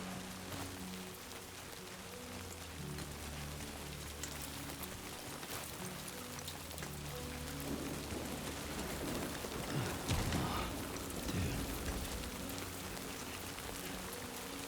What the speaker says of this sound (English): I love how there's more rain on the screen when it's storming.